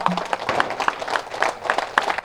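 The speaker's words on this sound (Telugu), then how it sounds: "ఒక్కసారి బ్రహ్మర్షి పితామహ పత్రికి గట్టి క్లాప్స్ కొట్టుకుందాం." Audience clapping at a pyramid meditation centre opening event in Meerpet, steady rhythmic applause from a crowd, fairly loud and sustained, with a brief tone at the start.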